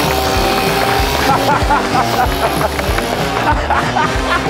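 A modified moped engine, in the same hands since 1972, races off the start line at the Glemseck 101 moped race. Its rapid, raspy two-stroke buzz pulses loudly and close, with the pitch rising and falling as it pulls away.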